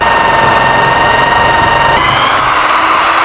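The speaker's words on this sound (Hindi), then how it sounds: "मैं ड्रिल को अगर ऐसे दबा दूँ और इस बटन को दबा दूँ तो अब ड्रिल चलती जाएगी" A power drill boring a hole through wood whines steadily and loudly throughout, a continuous high-pitched motor drone with no talking.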